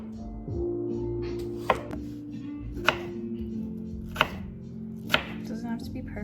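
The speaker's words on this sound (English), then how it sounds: "I'm cutting my potatoes into" Knife cutting potatoes into wedges on a board, four distinct, well-spaced chops over a low background hum.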